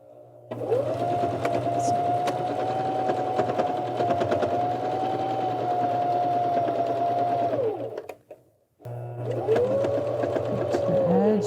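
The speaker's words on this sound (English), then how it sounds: "I'm going to sew all the way around now, starting here" A Janome 725S sewing machine stitches around a microwave cozy in a steady, even whir, stops briefly, then starts again for a shorter run.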